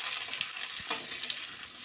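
Chopped half-ripe mango pieces fry in a pan for an Assamese amor tok, giving a steady, close sizzle with a few light stirring scrapes and no talking.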